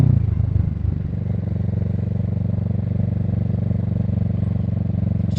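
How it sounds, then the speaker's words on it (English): A motorcycle engine runs steadily and loud throughout a gear upshift, with the clutch eased out while the throttle rolls back on; a low, continuous engine drone holds with a brief rougher surge at the start. "We're going to engage the clutch and release the throttle at about the same rate, kick it up, and then roll back on the throttle at the same time I release."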